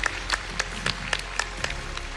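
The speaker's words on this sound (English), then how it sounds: "A big round of applause" Audience at a tech summit final stage claps for a startup pitch team, a brief, fairly quiet patter of scattered individual claps.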